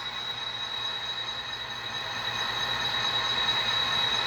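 Athearn Missouri Pacific model locomotives with sound run on a home layout, a faint, steady mechanical hum with a thin high whine that swells slightly partway through.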